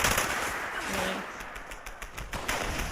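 Rapid gunfire from a Pepper Shaker weapon in Fallout 76, a dense rattle of closely spaced shots that runs across the whole stretch with a few sharper bursts near the end, over a busy game soundscape.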